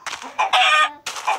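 Chicken clucking in a video game, a few loud, close squawking clucks in quick bursts with short gaps between them.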